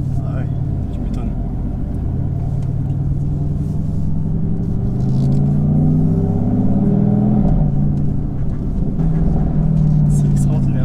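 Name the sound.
Mercedes-AMG GT S V8 engine rumble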